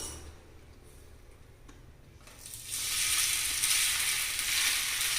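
Tiffin batter, ground at home and set on a banana leaf, hits hot oil and starts sizzling; after a couple of quiet seconds with faint ticks, a loud, steady frying hiss rises and holds close by.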